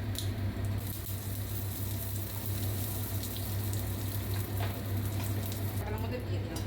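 Mustard seeds and dried chilli sizzle in ghee for a tadka, a steady close frying crackle with a low hum running under it throughout.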